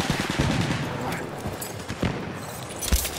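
Enemy machine gun firing in a video game, rapid bursts of gunfire crackling over a noisy battlefield with scattered louder shots, fairly close and steady throughout.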